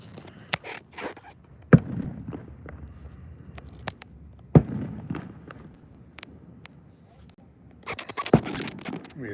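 Fireworks bursting at an evening Fourth of July show, sharp distant pops and bangs scattered irregularly, with a dense cluster near the end over low outdoor rumble and crowd noise.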